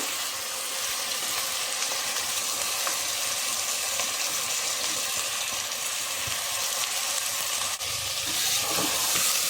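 Tomatoes and coriander frying in a pan of well-browned ingredients for Andhra gongura curry produce a loud, steady, hissing sizzle that runs without pause throughout, with occasional light clinks of stirring.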